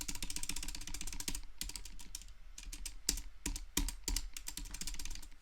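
Fingers type quickly on a membrane keyboard whose stabilizers lack lubricant, a dense run of close clicky keystrokes with a brief pause mid-burst, loud and dry.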